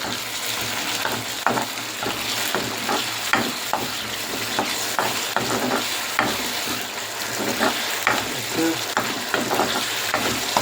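Katla fish cooking in a spicy curry sauce, a dense continuous sizzle and bubbling with repeated scraping stirs from a spoon in the pan, close and fairly loud.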